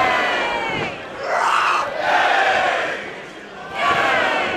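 Wrestling crowd at an OTT ScrapperMania show turning against Matt Riddle, chanting in loud rising swells that surge and dip in waves, a large arena roar with no clear speech.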